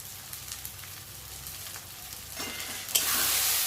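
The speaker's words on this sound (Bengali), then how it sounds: "মশলাটা এবার ভাজা ভাজা করে নেব ভালো করে।" Ground salt, cumin, turmeric and coriander frying in a pan, a soft crackling sizzle with light scraping that swells into a brighter, louder hiss near the end.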